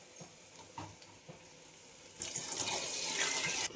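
Water pours into a pot of rice for biryani, starting with a few light drips and clinks, then becoming a steady, close splashing stream for the last second and a half.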